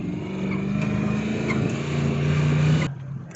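The V8 engine of a swapped Toyota Hilux drones steadily from inside the cab while the truck climbs an off-road mountain track, then drops off sharply near the end.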